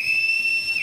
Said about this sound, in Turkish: Çok güzel ıslık çalar. Çal bakayım.